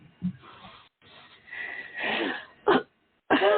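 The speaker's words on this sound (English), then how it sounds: "Oh, I coughed again on the air. What I'm doing is I'm clearing my throat" Several short bursts of coughing and throat clearing from a man on a radio or podcast broadcast, loud and close, separated by brief pauses.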